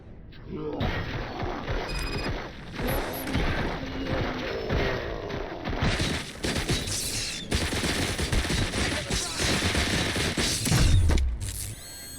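Rapid bursts of gunfire from a Robocop Rogue City shootout on PC, dense and continuous over clattering mechanical noise and game music, with a heavier thump near the end.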